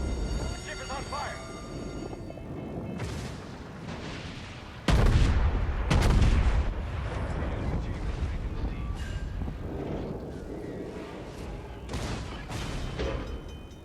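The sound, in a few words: naval artillery broadsides in World of Warships video game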